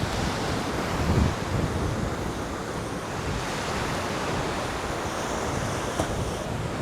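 Night surf at Curlies Beach in Goa rolls in as a constant broad wash of waves, with wind buffeting the microphone and no clear voices.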